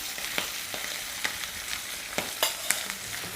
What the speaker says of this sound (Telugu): కారం యాడ్ చేసిన తర్వాత స్టవ్ లో ఫ్లేమ్లో పెట్టుకొని ఒక 30 సెకండ్లు ఫ్రై చేసుకుంటే చాలు